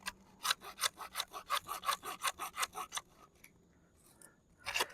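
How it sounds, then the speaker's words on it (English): PVC pipe for a pond pump being sawn by hand while the pipe is rotated against concrete, giving a close, steady series of about a dozen rasping strokes, then a pause and a final burst of cutting. "I'm spinning it around a little bit because I'm cutting it on the concrete right here"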